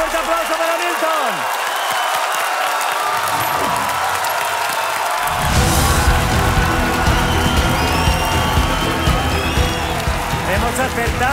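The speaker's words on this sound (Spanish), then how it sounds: "¡Un fuerte aplauso para Milton!" TV game show studio audience applauding and cheering, starting thinner under talk and shouts, then swelling into loud full applause with yells after a few seconds.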